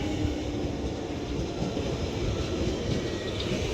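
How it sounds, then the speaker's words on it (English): A London Underground Jubilee Line 1996 stock train arrives at Dollis Hill, a steady loud rumble of wheels and motors with a broad roar, close and continuous, no voices. "now arriving in is going to be a London Underground Jubilee Line 1996 stock"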